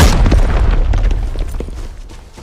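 A deep, loud boom from a grenade explosion in the game Arena Breakout, with a rumbling low tail that gradually decays, followed by faint scattered clicks.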